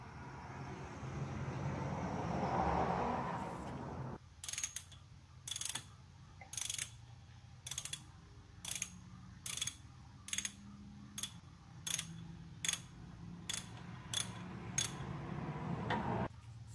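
A ratchet backs a bolt out of the water pump of a 2002 Honda Civic, giving about a dozen sharp, close clicking bursts in an even back-and-forth rhythm after a stretch of low garage noise.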